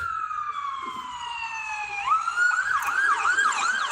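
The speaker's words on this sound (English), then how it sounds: "Ambulance." An ambulance siren wails nearby, first a long falling tone, then a rapid rising-and-falling yelp pattern, loud and steady over faint traffic.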